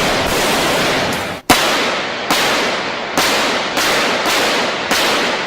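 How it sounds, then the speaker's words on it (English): Rapid automatic bursts from an AK-47 rifle striking a grade 5 armored vehicle in a ballistic test, loud and close, with sharp cracks breaking the continuous fire about every second, no voices. "the AK-47 is also used to test armored vehicles"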